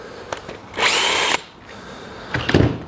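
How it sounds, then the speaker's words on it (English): A power drill whirs in two bursts, taking screws out of an irrigation solenoid valve: a loud sustained spin of about half a second, then a shorter, lower grinding burst after a pause. "take the solenoid valve apart by taking these screws out"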